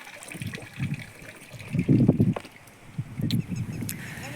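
Close-up gulping and slurping of a cow drinking water, in several uneven bursts separated by short pauses.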